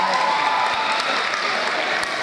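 A school hall audience claps steadily for the placed classes at a Mohács school contest, a thick wash of many hands, loud and even from start to finish, with no speech over it.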